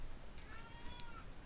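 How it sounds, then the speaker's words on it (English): A cat meows faintly in the background, a couple of short, thin calls heard in a quiet room during a Witcher game session. "Sorry about that, that's a cat."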